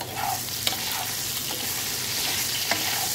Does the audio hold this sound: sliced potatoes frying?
yes